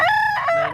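A nine-month-old yellow-legged sweater gamecock rooster crows once, close and loud, in a single sustained harsh call that bends in pitch near the end.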